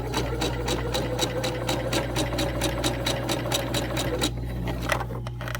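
A sewing machine stitches down one side of a fabric face mask. The needle chatters in a fast, even rhythm over a steady motor hum and stops near the end.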